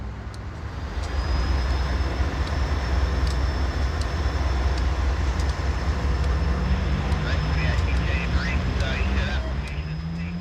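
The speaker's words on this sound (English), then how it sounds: "now seen shoving their train back into the yard" Freight train CSO3 in central Connecticut shoves its cars back into a yard, a steady low diesel rumble and rolling drone filling the scene, with faint squeals and clanks from the wheels and couplers partway through.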